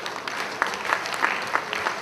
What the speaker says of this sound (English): Let's all stand up and give them a big round of applause.